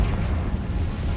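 A Confringo fire spell blast in Hogwarts Legacy, played on PC: a dense, rumbling explosive roar that fills the moment, loud and steady with no voices.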